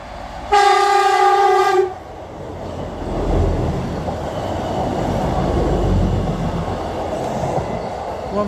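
A short, loud two-tone horn sounds from a South Western Railway passenger train, followed by the rising rumble and rush of the train passing close by in southern England.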